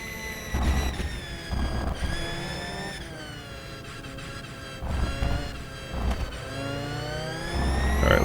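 An eX Zero electric race car in rFactor 2 accelerates down the track, a strong whining electric drive with rising harmonic sweeps that repeat as it gains speed, close and loud with wind rush and no talk.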